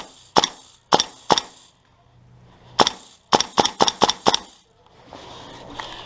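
Airsoft guns firing during a game at an outdoor paintball field in Texas, sharp close snaps coming singly and then in a quick burst of about six rounds, with quiet gaps between.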